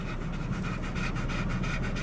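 Steady, rapid dog panting close by inside a 2019 Audi A6 3.0T with the air conditioning on, a continuous rhythmic huffing of breaths with no talking.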